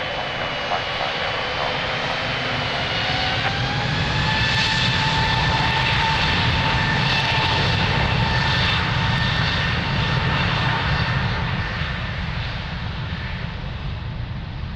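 An airliner taking off from runway 02 at Lisbon Airport roars steadily and loudly throughout, a sustained jet engine rumble with whining tones that shift in pitch as it accelerates away.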